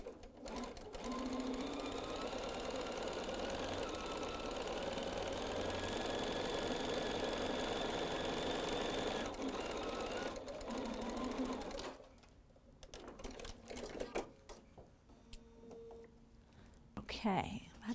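A sewing machine stitches quilt pieces over a starter strip with a continuous, fairly quiet whirring hum for about twelve seconds, then stops, leaving soft handling noises.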